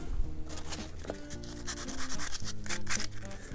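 Light hand sanding on balsa RC plane wing parts for a vintage Barnstormer model, soft repeated rubbing strokes close by with faint background music and no talking.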